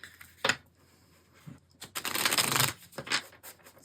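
Tarot cards are riffled and shuffled in a few quick bursts, the longest in the middle, with soft pauses between, close and fairly quiet.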